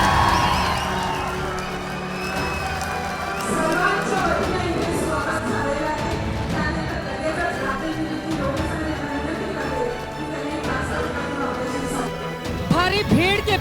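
A large, noisy crowd fills an outdoor election rally for Ajit Pawar in Maharashtra, a continuous dense murmur with scattered shouts and cheers, a few sharp knocks and whoops near the end.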